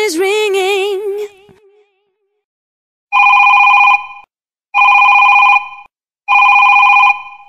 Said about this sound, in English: Hey, your phone is ringing.